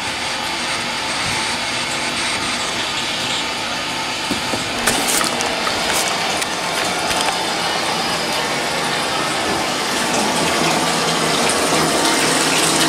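Water gushes steadily from a hotel bathroom tap, a loud continuous rushing that fills the whole stretch, with a few faint clunks partway through.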